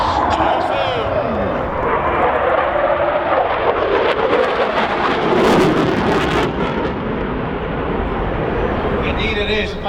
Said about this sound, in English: 2016 Scottish International Airshow. The Royal Air Force, Typhoon.